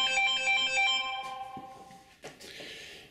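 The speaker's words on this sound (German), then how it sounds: "Ja, Telefon." A telephone ringtone chirps in a melodic electronic pattern for about a second and a half, then stops, followed by a faint clunk and rustle in a quiet piano repair workshop.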